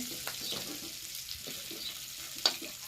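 Drumstick pieces frying in oil for a biryani, a faint continuous sizzle with occasional soft scrapes and one sharper clink, close and quiet, no talking.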